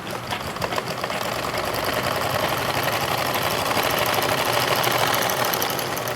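A sewing machine stitching a blouse runs steadily and close, a continuous rapid mechanical chatter with a fast even rhythm and no talking.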